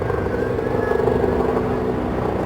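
Military helicopters fly past in formation, led by a Chinook followed by a Griffin, a Puma and an Agusta 109, over St. James's Park for the Queen's birthday. A loud, steady throbbing rotor drone fills the air.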